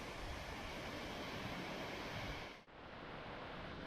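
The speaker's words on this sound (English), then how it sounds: "water falling down from the reservoir above." Cauldron Snout waterfall on the Pennine Way, water pouring down from the reservoir above, a loud, constant broadband rush with a brief dip near the end and no voices.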